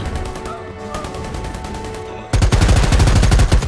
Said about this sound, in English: Already shooting my own teammate.